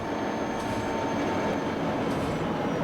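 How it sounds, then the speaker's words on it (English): Santa Fe ST4-2 and CN Trainmaster locomotives with a freight train give a steady, loud rail rumble that holds evenly throughout, with no distinct coupling clank standing out. "the Santa Fe ST4-2 and the CN Trainmaster locomotive were going to couple up to a freight train"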